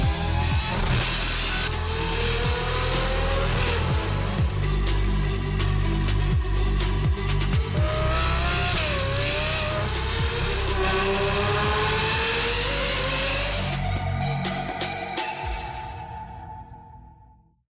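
A Ferrari 812 Superfast's naturally aspirated V12 engine revving loudly with rising and falling pitch as it accelerates through gears, continuous roar before fading out at the end.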